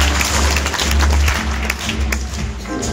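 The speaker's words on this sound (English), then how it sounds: "A round of applause," Audience applause at a concert, loud sustained clapping from a crowd over a low hum, steady throughout.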